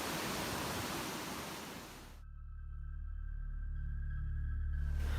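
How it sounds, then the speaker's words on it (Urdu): The Indus River roars in a steady, dense wash of rushing water, loud and close at first. After about two seconds it drops away abruptly to a low hum with faint tones, then the roar swells back near the end. "دریا کا شور اور ٹھاٹھے مارتا پانی"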